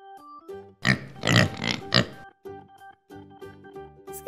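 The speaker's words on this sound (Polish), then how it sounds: "Zgadza się, to jest świnka." A pig in a children's animal cartoon gives a short run of snorting oinks and grunts, loud and close, set between softer tonal background sounds.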